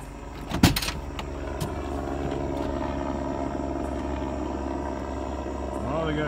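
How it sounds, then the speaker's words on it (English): A police helicopter flies overhead as a steady, low, droning rotor hum, after a brief knock near the start. "they got a chopper in the sky again. Looking for the bad guys."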